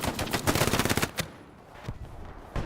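Rapid bursts of automatic gunfire in the Hell Let Loose video game, loud and dense for the first second, then a few isolated distant shots after a pause.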